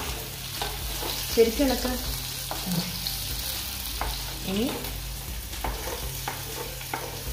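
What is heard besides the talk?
small onions added to ginger, frying and being stirred in a pan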